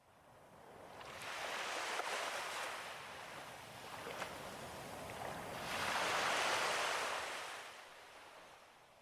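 Ocean waves surging onto shore in two broad swells, each rising to a loud rushing wash and then fading, with a soft windy hiss between them and no voices.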